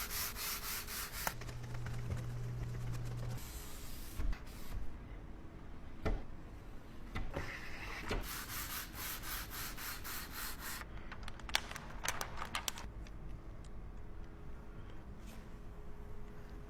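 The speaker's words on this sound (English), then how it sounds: "Spray it, scrub it, squeegee." Scrubbing and squeegeeing a Corvette C8 during cleaning, with continuous close rubbing and wiping strokes and occasional sharper scrapes, with no voices.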